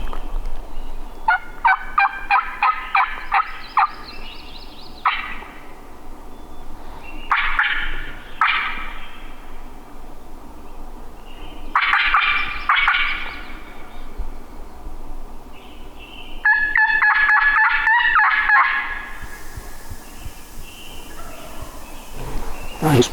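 Wild turkey gobbler gobbling on public land in the Black Hills, several rattling gobble bursts spaced across the clip at moderate distance, with quiet rustling outdoors between calls.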